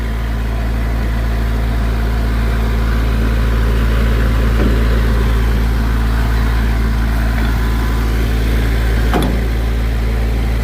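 A Farmall Cub tractor engine runs at a steady low idle, a constant close rumble throughout with a faint clank or two and no one speaking.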